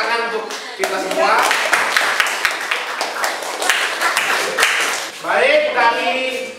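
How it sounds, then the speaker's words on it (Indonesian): Students in a Grade 7 classroom clap together, brisk, dense hand claps filling several seconds, with children's voices and a teacher talking over and around the applause. "Tepuk tangan untuk kita semua."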